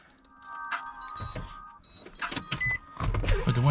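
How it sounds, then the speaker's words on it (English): A car's electric power window motor whirs as the glass lowers, a steady mechanical hum with some clicks, followed by louder wind and road rumble near the end. "Put the window down because I'm not getting out of the car."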